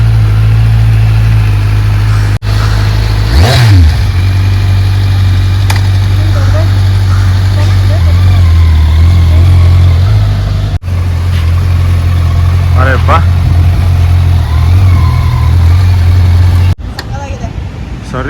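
A Kawasaki superbike, roughly a 900 cc machine, idles with a steady low rumble, broken by a few short rev blips. People talk over it close by.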